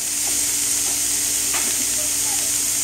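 Cooked quinoa added to a loud, constant sizzle of cabbage stir-fried for quinoa fried rice, with faint stirring scrapes in the steady hiss and no talk.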